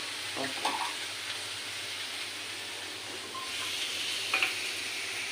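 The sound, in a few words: water added to hot pan, sizzling while cooking khar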